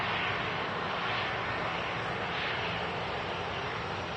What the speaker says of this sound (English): A lot of aircraft taxiing out for departure as well.